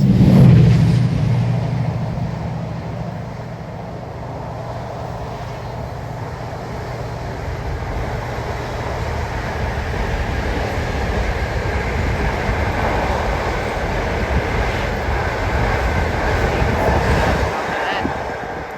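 A freight train rumbles past steadily at Tamworth station for the whole stretch, a continuous low roar with faint rhythmic clatter of wagons on the rails.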